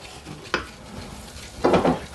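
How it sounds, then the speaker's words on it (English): A wooden spoon stirs and scrapes a flour roux in a pot for mac and cheese, with a quick scrape followed by a longer, gritty scraping stir, close up with a low sizzle underneath. "Throw your flour. You don't want your flour to burn, so you got to start mixing it up so that it doesn't stick"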